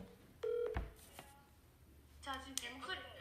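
Telephone dialing tones with steady keypad beeps near the start, followed by softer tonal phone sounds, with faint voices in the background.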